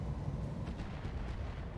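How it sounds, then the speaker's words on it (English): An ammo explosion on a battle mech in the video game RogueTech, a BattleTech mod: a deep, heavy rumbling blast with crackling bursts, loud and sustained, with no voices. "Ammo explosion."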